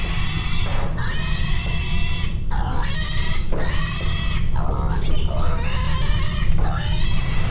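Pigs squealing loudly and continuously on an intensive pig farm, with repeated high shrill cries over a constant low machinery hum, close and dense throughout, with a brief human exclamation.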